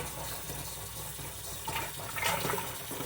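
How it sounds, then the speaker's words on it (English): Water running from a tap into a container for lime pickles, filling it about half full; a faint, steady splashing and trickle with a brief louder gush near the end, no speech. "I'm going to get it about half full with water"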